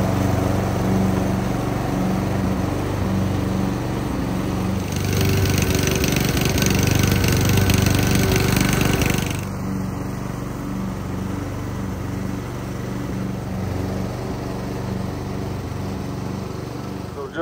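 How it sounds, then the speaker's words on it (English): An Ecreban lawn mower runs while mowing, its engine a steady close drone that swells louder for a few seconds midway before settling back to an even hum. "next thing you'll see is probably me mowing with it"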